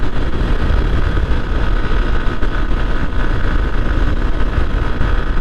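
Steady, loud broadband roar of a motorcycle riding at speed, around 100, on the Dhaka–Bhanga expressway, with engine drone and wind rush continuous throughout and no talk.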